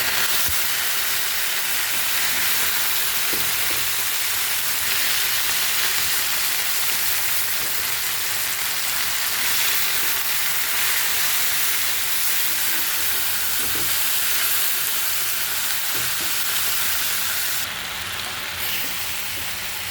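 Jute greens fry in hot oil with a constant, even hiss that stays loud and unbroken for a long stretch, with only a few faint knocks underneath.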